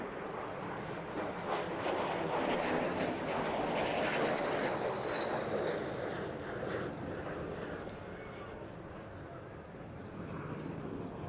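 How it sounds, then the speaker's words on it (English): A MiG-15 jet fighter flies a display at a seaside airshow, its engine a distant, fairly faint roar that swells in the middle and then recedes, with a high whine sweeping across. "Please welcome the MiG-15."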